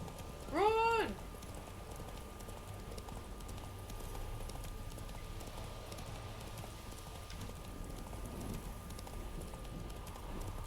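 Roach, Geralt's horse in The Witcher 3, gallops with a steady clip-clop of hooves through the whole stretch, joined by a rain-like patter and an early brief whinny-like cry near the start.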